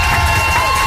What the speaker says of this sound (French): Est-ce qu'on peut applaudir très fort Squeezie